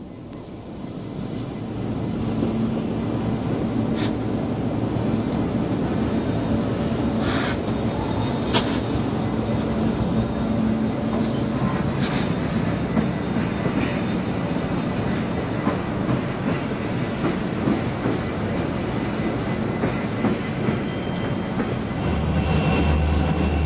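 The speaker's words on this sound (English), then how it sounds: "Next, Conrail 6849 crosses the trestle heading southbound." A Conrail freight train, locomotive 6849, rolls southbound across a trestle on the Monongahela Railway as a steady, rumbling roar with wheel clatter and occasional squeals, close and continuous throughout.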